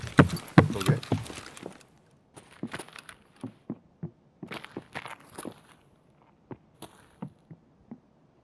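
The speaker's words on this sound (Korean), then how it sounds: "발소리 같은데?" Footsteps in the video game Escape from Tarkov, set in a shoreline resort: a loud burst of quick steps at first, then a scattered, irregular run of fainter single footfalls spread over several seconds with silence between them.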